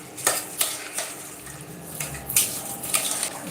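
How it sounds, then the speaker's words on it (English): A spoon scrapes and knocks against a pot while rice and beans for waakye are stirred together, several close clinks and scrapes spaced irregularly, with no talking. "So we're gonna stir the rice together"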